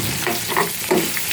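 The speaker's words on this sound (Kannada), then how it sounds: "ನಂತರ ಫ್ರೈ ಮಾಡಿ" Onions frying in a pan, a close steady sizzle with a couple of soft scraping stirs, brief and without talk.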